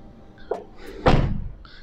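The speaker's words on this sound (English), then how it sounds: "This part for you to hold to close the door." Rear door of a 2022 Land Rover Defender P400 shut firmly, a single loud solid slam preceded by a lighter handle click, with a short dull ring afterward.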